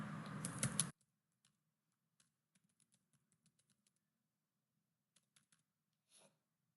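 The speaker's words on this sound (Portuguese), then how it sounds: "O e-mail do usuário, eu vou digitar um e-mail qualquer para o usuário." Computer keyboard keys click in a quiet room while an email address is typed, a burst of louder noise first, then sparse, soft, irregular taps with pauses between them.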